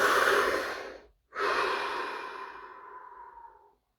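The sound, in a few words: a deep breath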